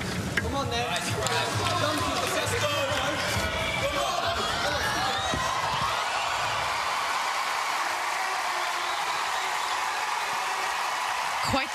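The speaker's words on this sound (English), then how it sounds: "Loved listening to his teammates cheer for him as well." Teammates cheer and shout during a men's gymnastics routine at the 2022 World Championships event finals, a loud, continuous arena crowd din with voices calling out throughout.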